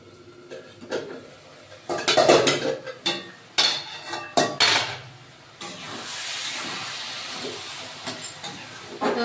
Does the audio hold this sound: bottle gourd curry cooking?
yes